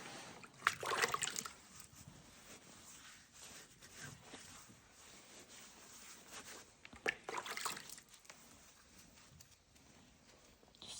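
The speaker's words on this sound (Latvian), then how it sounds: "Tagad tu varētu man palikt ūdeni." Water is poured and trickles over a horse's leg after a hoof abscess, faint splashing and dribbling in uneven bursts with quiet handling noises between.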